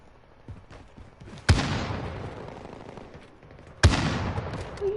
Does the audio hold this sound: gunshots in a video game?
yes